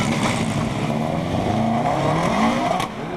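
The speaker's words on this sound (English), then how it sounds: "Corkman Frank O'Mahony, who's also in an ex-Fisher Impreza, like many, finds the factory section particularly difficult." Subaru Impreza rally car, an ex-Fisher car, driving through the cement factory section of a rally, a loud, near engine holding a revving, rising and falling tone with gear changes throughout, alone without voices.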